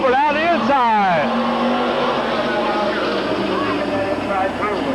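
Stock cars race at Midvale Speedway, their engines roaring and a pass sweeping by in a sharp rising-then-falling whine, followed by a steady pack drone while a commentator talks over the action.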